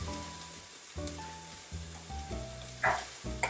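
Already-steamed vegetables frying in a pan for sausage risotto, a soft sizzle under background music with a few brief louder crackles and stirring scrapes.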